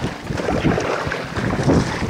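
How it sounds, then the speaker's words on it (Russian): Gusting wind roars against the microphone with water slapping and churning around a new FishKayak EVO fishing kayak out on open water, a steady, close rumble lasting a couple of seconds with no talk. "Вот, тут еще порывчик такой ветра пошел, и волна."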